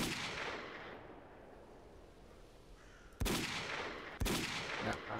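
Gunfire in S.T.A.L.K.E.R.: Call of Pripyat, with two sharp, loud shots spaced about a second apart. A fading noisy rumble comes before them and there is no talking.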